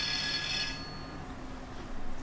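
A telephone rings in a workshop where a fan is being sleeved, a short faint electronic trill in the first moment, then fading into quiet room noise.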